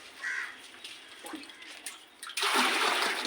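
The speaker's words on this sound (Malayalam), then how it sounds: "നമുക്കിനി ഇത് ഈ ടാങ്കിലോട്ട് ഒഴിക്കാം" Quiet outdoor ambience with a faint bird call, then a loud steady rush of water pouring in abruptly and continuing to the end.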